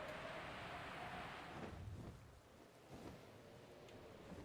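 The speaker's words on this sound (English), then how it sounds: "Okay, it is rainy." Steady rain hisses in a Pokemon Legends Arceus landscape, a soft even wash with low rumbling underneath and no voices.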